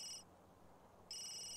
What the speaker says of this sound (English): Phone's ringing, dude.